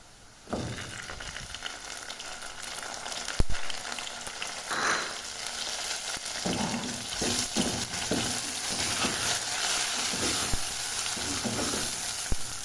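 Garlic, onion and tomato frying in a pan for aloo palak, a steady close sizzle with stirring scrapes and utensil knocks throughout, no talking.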